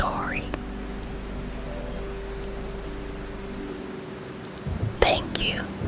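Steady soft rain falls throughout as a gentle wash behind a quiet whispered story, with a brief louder rustle near the end.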